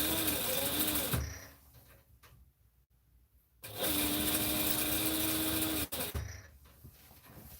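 A home sewing machine stitches a hem in a short loud burst, stops for a quiet pause, then runs again in a longer steady whir before halting.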